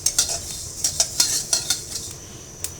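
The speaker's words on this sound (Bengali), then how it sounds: "এখানে পাঁচফোড়ন আমি একটু ভেজে নিচ্ছি" Panch phoron spices dry-roast in a pan as a spoon stirs them, giving a quick series of light metallic clicks and scrapes over a faint background hiss, close and fairly soft.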